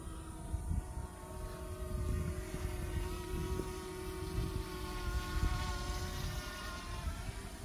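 A Hubsan Blackhawk-1 drone flying at full throttle in normal mode gives a steady, continuous propeller whine with tonal harmonics over a rough, windy rumble, moderately loud and unbroken throughout, with no talking.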